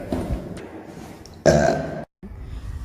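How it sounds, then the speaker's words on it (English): A short throaty burp erupts partway through, loud and close, preceded by quieter breathing and mouth noise, with a brief gap of silence just after. "I gotta burp."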